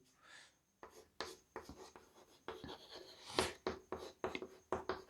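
Quiet scratchy strokes of writing on a board during a maths lecture on relations, coming in short, irregular bursts with brief pauses between them and no talk.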